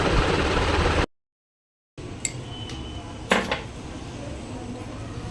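A metal spoon clinks against a glass holding ice cubes while soaked basil seeds are added, giving a few sharp, bright taps after a short gap of silence.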